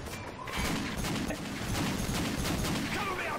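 Pistol fire in a Call of Duty match, a dense run of sharp shots and game clatter filling the clip at steady loudness, with game noise underneath.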